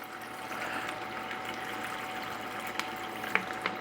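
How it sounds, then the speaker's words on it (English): Water trickles and pours steadily into a plastic vacuum sealer bag, a soft continuous liquid wash with a few small splashes near the end. "See if I don't make a mess filling this bag up with water."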